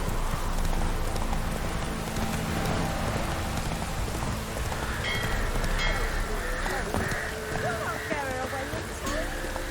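In The Witcher 3 game, the horse Roach trots along with rhythmic hoof clip-clops amid steady rain pattering on surfaces, moderately close, while characters talk over the scene.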